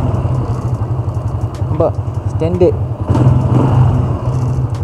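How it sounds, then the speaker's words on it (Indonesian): A year-2000 motorcycle with an electric starter and a standard exhaust idles close by, a steady low rumble under someone talking over it throughout. "Jom kita tengok tu bunyi motor ni"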